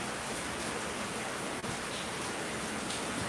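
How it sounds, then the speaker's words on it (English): Rain pours down outdoors as a dense, unbroken hiss of drops, loud and even throughout, with no voices. "It's raining outside right now."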